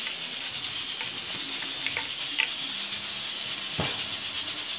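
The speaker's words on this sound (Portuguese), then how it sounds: "Coloquei um azeite para esquentar." Olive oil heats in a pan before peeled shrimp go in for a Brazilian shrimp bobó. A steady, close hiss runs the whole way, with a few faint clicks and taps.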